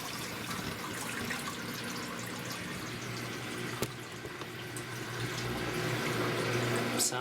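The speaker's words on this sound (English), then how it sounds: "Still quite a bit of water coming out of there" Water steadily draining out of an off-grid laundry system, a continuous rushing, gurgling flow with a faint pump-like hum underneath, holding level throughout and swelling slightly toward the end.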